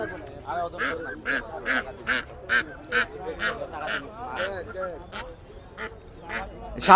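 Ducks at a busy poultry market quack in a rapid run of loud, regular calls close by, with people talking and general market noise underneath.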